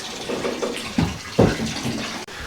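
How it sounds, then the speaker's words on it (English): Water is poured into a container for horses to drink inside a barn, giving splashing, gurgling surges close by with a few louder bursts. "since they're inside, they need some water at lunchtime, so we're giving them some water even now"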